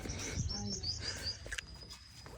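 Pigeon cooing and chirps over a busy outdoor village background in Pakistan, soft cooing mixed in; moderately faint, no talking.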